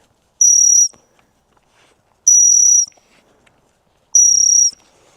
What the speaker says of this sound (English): So all we need to do is condition our whistle over the top of this exercise.